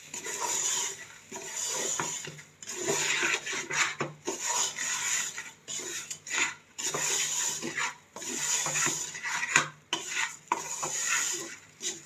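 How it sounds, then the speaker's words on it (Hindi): Cracked wheat (daliya) is roasted in a pot, a spoon scraping and stirring it with repeated gritty, rasping strokes and occasional clinks against the metal, close and steady with short pauses. "इसको मैं इसके अंदर अच्छी तरह भून दूँगी।"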